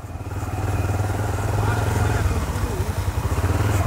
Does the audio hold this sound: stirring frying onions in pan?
no